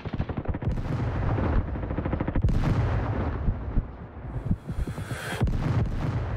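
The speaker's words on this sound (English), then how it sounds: "Just throwing in a random grenade." Dense continuous gunfire and explosive blasts from a Roblox Call of Duty-style shooter game, loud and sustained with sharp bursts and a grenade-like boom, no talk over it.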